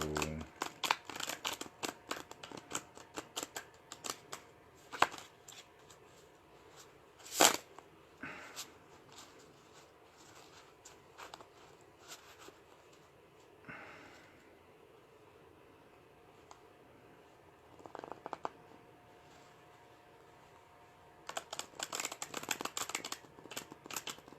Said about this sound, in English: I think I'll shuffle them 3 times